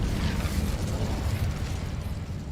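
A fire spell, Incendio, cast in the video game Hogwarts Legacy gives a loud, continuous roaring burst of flame that stays dense and steady for its whole brief length with no pauses.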